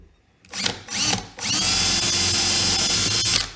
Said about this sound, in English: if you're going to drill like this, just be careful